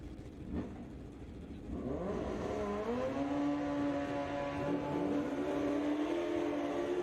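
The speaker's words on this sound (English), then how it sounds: "pair of Hayabusas down here on the line" A pair of Suzuki Hayabusa drag racing motorcycles on the line at a street outlaws drag race, one boosted with nitrous: engines rev, then scream into rising, shifting wails that hold loud and steady to the end.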